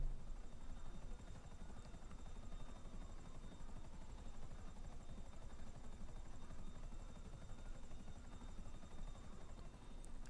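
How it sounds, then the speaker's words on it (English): Helicopter rotor blades spinning up in a GTA heist mission, a steady broadband whir and drone holding at an even level throughout with a faint high whine above, no talking. "Once the helicopter blade starts spinning, that's when you get everybody in the helicopter and you get the hell out of there"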